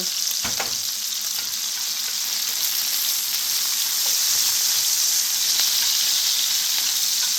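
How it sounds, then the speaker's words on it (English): Garlic and onions sauté in a pan after seasoned tofu, sending up a steady close sizzle and hiss with a few brief stirring clicks near the start. "Now we just sauteing garlic, onions, and garlic."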